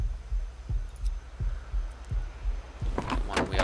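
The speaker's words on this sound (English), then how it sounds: "Heartbeat pounding in our ears." A pounding heartbeat in the Atlas pirate game, steady low thumps repeating about every third of a second under faint ambient noise, with brighter clicks near the end.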